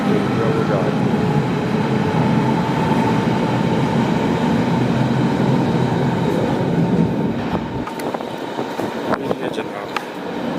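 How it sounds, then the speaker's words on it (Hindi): A train pulls away from the far platform of a Berlin station, a broad steady rumble of wheels and motors that fades after about eight seconds into quieter station ambience with a few clicks. "दूसरी साइड की ट्रेन जो है वो जा रही है।"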